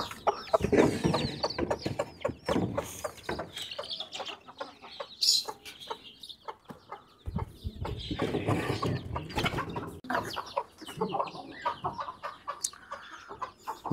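Desi chickens cluck and squawk close by in irregular bursts, one laying an egg, with some rustling and a few higher mynah calls mixed in.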